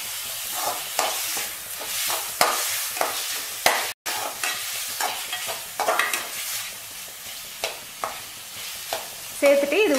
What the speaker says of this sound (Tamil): ஒரு அஞ்சு நிமிஷம் நல்லா டீப் ஃப்ரை ஆகிற வரைக்கும் ஃப்ரை பண்ணிக்கலாம்